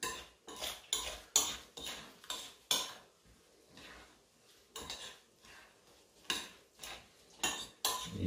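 Egg being whisked into a köfte mixture in a bowl, rapid clinking bursts of a utensil against the bowl in uneven runs separated by short pauses, close and distinct.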